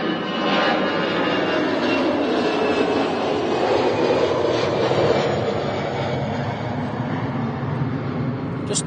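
An Emirates aircraft pushing back at Manchester Airport, giving a steady, broad roar of engine and ground noise that holds constant throughout, with no talk.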